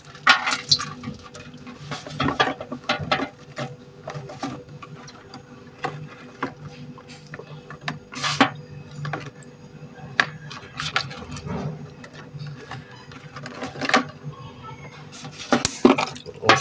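A starfish is washed in water inside a plastic container, giving irregular splashes, sloshes and drips, some close and sharp, with quieter trickling between them.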